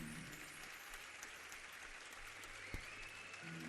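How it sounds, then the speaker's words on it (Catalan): A concert audience applauds the students who performed at a school concert, with continuous, fairly distant clapping at an even level and no speech. "Un altre aplaudiment ben sonor per tot l'alumnat que ha participat en aquest concert."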